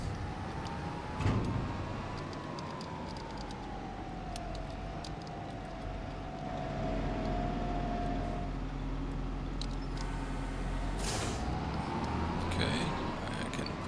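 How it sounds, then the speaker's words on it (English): A tractor engine in Farming Simulator 25 runs steadily at moderate volume, its hum drifting slightly in pitch, with some faint clicks and background noise. "So all we have is our tractor going"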